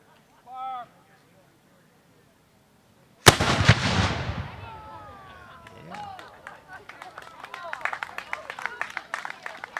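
Black powder cannon at the Bennington Battle Monument, fired with four ounces of powder in an aluminum container: one deafening boom follows a brief voice, decays slowly, then gives way to a crowd's scattered applause.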